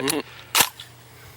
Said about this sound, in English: Well, you got that one right in the middle of it, John. Good shot.